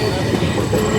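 Shalimar Trivandrum Express rolling over the Godavari railway bridge, a steady close rumble of wheels with faint rhythmic clatter and a light squeal, brief and continuous.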